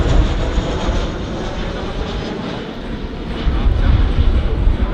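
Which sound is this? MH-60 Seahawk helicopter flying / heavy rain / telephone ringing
MH-60 Seahawk helicopter flying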